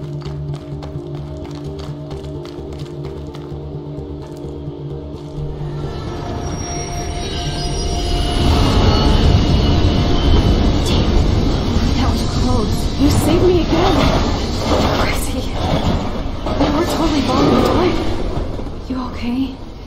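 A train rolls past in the video game Life Is Strange, starting with a quiet rhythmic clatter and swelling to a loud rumbling, screeching rush of wheels on rails that holds for the rest of the clip.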